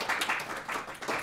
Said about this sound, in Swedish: En varm applåd till våra inledare.